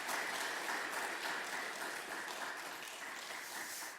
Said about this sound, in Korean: 시간 잠시 축복하는 박수 한번 하도록 하겠습니다.